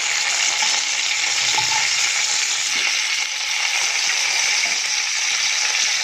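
An egg and tomato omelette sizzles loudly and evenly in a pan after being flipped, a dense, continuous close-up frying hiss with no voices.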